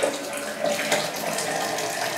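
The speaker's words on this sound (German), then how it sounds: "Das Ganze füllen wir jetzt ganz einfach in einen nicht mehr ganz so schönen Krug ein." Juice from a Philips HR1874 juicer jug poured into a pitcher makes a steady, close trickling splash of liquid throughout, with no talking.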